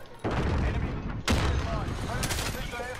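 Gunfire in Call of Duty Modern Warfare, a sustained volley of loud automatic shots with a sharp blast partway through, close and dense, with a voice briefly in the mix.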